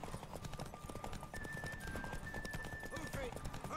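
Horse hooves clip-clop in a quick steady rhythm in The Witcher 3, faint and mixed with game ambience, while a voice talks over the top.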